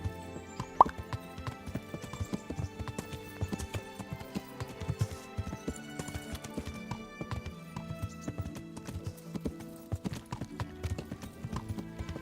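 Horse hooves clip-clop steadily in the Kingdom Come: Deliverance video game, a continuous rhythmic run of close, moderately loud hoofbeats with a brief whinny-like accent near the start and no talk over it.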